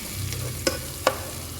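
Garlic and bay leaves frying in butter for chicken soup, a soft sizzle under two sharp spoon scrapes as the pan is stirred, close up, no voices.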